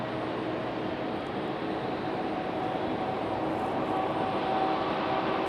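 Air France and Frontier jets take off side by side at Raleigh-Durham International, a steady, broad engine roar that holds at moderate distance and swells slightly toward the end, with no talk over it.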